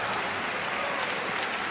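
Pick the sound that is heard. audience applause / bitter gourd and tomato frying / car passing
audience applause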